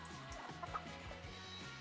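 Chicken clucking inside the video game Scary Teacher 3D, set in a Stone Age level. Short clucks repeat over steady game background music at a moderate, close level.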